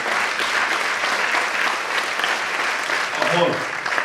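Applause from an audience at a school arts gala welcoming a returning teacher, a steady dense clatter of clapping sustained throughout with a brief voice near the end.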